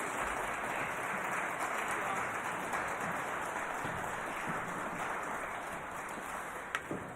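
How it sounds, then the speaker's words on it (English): A community gathering audience gives a dense, sustained round of applause, a steady wash of many hands clapping that fills the whole stretch without pause. "Can we give a round of applause to our friends, please?"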